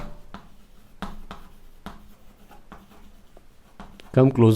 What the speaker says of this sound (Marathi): बघा एक्सप्लेन करताना लिहितो थोडं